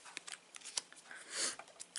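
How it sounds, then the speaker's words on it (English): Soft papery riffling and light taps of tarot cards being shuffled close by, quiet and irregular, with one longer rustling sweep midway. "You shuffle them like a tarot deck."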